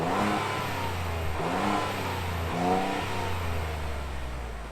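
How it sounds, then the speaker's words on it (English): Ford Bronco engine revving near the microphone, several rising and falling throttle blips over a steady idle-like rumble, loud and alone with no talk. "we're gonna fire up this rig. But before we rev it out"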